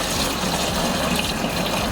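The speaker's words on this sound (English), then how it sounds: "we're just gonna use this to store this precious sap in and try to pour it without losing any" Maple sap pours steadily into a storage container with a continuous gushing, splashing rush that stays loud throughout.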